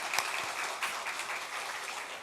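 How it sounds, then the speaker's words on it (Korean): A church congregation applauding its teachers during a Sunday afternoon service, a soft, steady round of clapping heard from a distance in a reverberant room. "우리 한 번 더 수고하신 선생님들께 박수로 같이 한번 격려해 주시면 감사하겠습니다"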